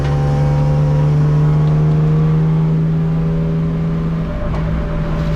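BMW race car on a qualifying hot lap at Hampton Downs, its engine droning steadily and loud from inside the cabin, holding a sustained tone throughout with no talk.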